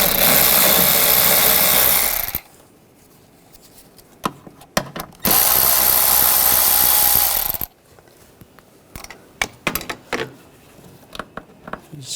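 A ratchet turns a 10mm socket to remove bracket nuts on a 2006-2010 BMW 550i 4.8L V8 engine, in two long loud bursts of rapid clicking separated by quieter knocks and taps of metal.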